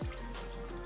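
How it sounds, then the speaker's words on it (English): A cocktail is poured into a glass, a brief, faint liquid trickle and drip. "we'll pour it right in here."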